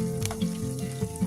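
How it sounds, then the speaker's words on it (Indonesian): Marinated food fries in hot oil over medium heat, a continuous crackling sizzle with small pops, close and brief. "Goreng di minyak panas,"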